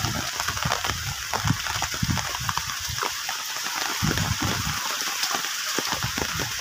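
Heavy typhoon rain pours steadily with a dense, hissing roar, gusty and unbroken throughout, with occasional lower rumbles beneath.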